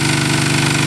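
A generator engine fuelled by small dead branches and sticks runs steadily at close range, a loud continuous rumble with a fast, even mechanical throb and no pauses.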